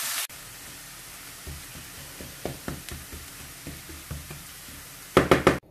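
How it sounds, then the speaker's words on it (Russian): Fresh spinach stirred into golden fried onion in a pan, a run of soft knocks and scrapes from a utensil in an uneven rhythm, close and quiet, ending in a few louder taps, no talking. "Высыпаем сюда шпинат. И все хорошо перемешиваем."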